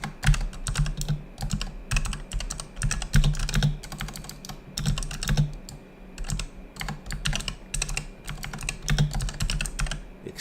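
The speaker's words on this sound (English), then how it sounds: "Excuse my horrible typing." Fast, close typing on a computer keyboard, bursts of clicking keys with short pauses in between, no talking.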